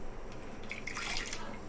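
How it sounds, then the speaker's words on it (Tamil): Water poured from a small tumbler into a pan on the stove for cooking greens, a brief hissing splash rising in the middle of a short stretch of kitchen noise, moderately loud, with no talking. "ஒரு 1/4 டம்ளருக்கு தண்ணி விட்டுக்கிறேன்."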